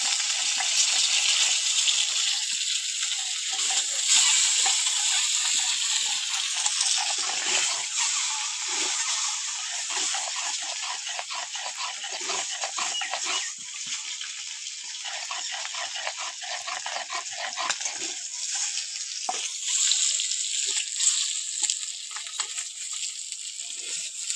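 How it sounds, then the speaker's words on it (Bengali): Eggs fry in hot oil for a Bengali egg curry with a steady, loud sizzle and crackle that runs the whole time. Nobody talks. "তেল দিয়ে দেবো। ডিম দিয়ে দিচ্ছি।"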